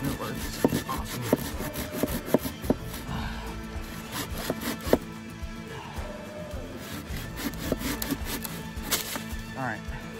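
A hand saw cuts through a log outdoors at a camp, with rough rasping strokes in an uneven rhythm close by, and a voice talks at moments between them.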